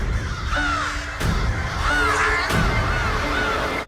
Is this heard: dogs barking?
no